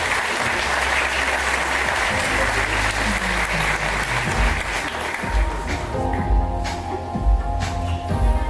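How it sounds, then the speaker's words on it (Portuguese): Audience applause for the speakers at a talk on entrepreneurship and the state, a loud sustained wash of clapping that continues for several seconds while low voices and room sounds rise beneath it toward the end. "Uma salva de palmas para os nossos palestrantes."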